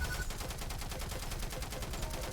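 Rapid, steady automatic fire from a triple-damage SMG in the arena shooter Diabotical, dense regular bursts running continuously throughout with no talk over them.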